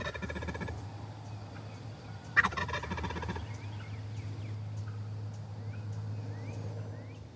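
A wild turkey gobbler lets out one sharp, rattling gobble at a distance over a steady low hum, the rest of the spring hunt scene quiet apart from faint background noise.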